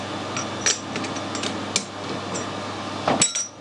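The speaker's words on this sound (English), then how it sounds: "Carbide doesn't normally like interrupted cuts, and this is going to be interrupted." A lathe's carbide tool takes an interrupted cut on a steel towing bracket, giving a steady machine hum broken by sharp metallic knocks and clinks at irregular intervals.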